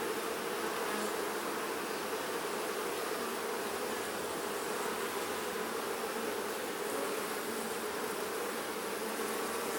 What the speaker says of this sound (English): Lots of bees in there